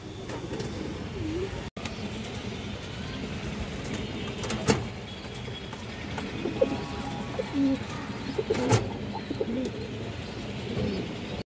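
Black Muslodom pigeons with boot-like beaks coo softly over a steady wash of traffic rumble and passing vehicles, the calls faint and intermittent within the noise.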